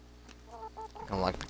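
Chickens clucking in the medieval video game Kingdom Come: Deliverance, a few short bursts of fowl calls that grow louder toward the end, with faint game sounds underneath.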